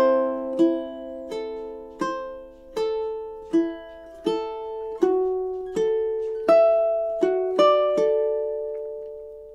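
Two measures of Ave Maria picked on a ukulele: a steady line of roughly a dozen clear plucked notes climbing gradually, each ringing briefly before the next, played solo and close.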